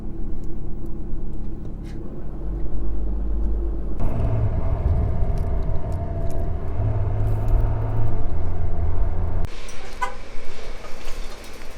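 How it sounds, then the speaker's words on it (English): California road traffic rumbles past from inside a moving vehicle, with engine and road noise shifting in loudness and a few horn toots over the steady drone, and no voices. "Traffic!"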